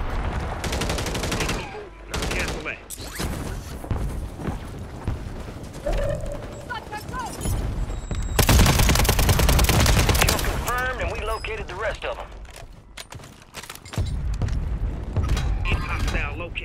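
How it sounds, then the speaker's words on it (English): Gunfire in a Call of Duty Warzone 3 match: loud, dense bursts of automatic shots and explosive blasts pile up over rumbling game noise, with several intense stretches rather than isolated shots. "Taking effective fire!"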